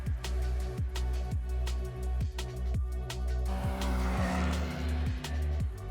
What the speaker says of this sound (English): Even on this bumpy snow, the Sharmax hits 85 km per hour with ease.